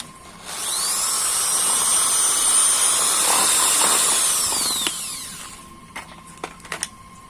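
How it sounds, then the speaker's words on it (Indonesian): Power drill running as a polisher on a catamaran hull mould, a loud high whine that spins up, holds steady for several seconds, then cuts off, followed by a few short clicks and knocks. "Kalau ada yang punya mesin bor, bisa pakai mesin bor"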